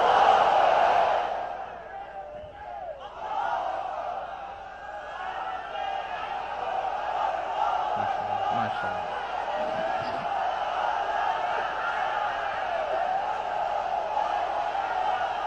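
A large crowd at an open-air religious gathering on a parade ground roars back in unison, a sustained, far-spread mass shout that swells early and then holds as a broad, steady wash of voices.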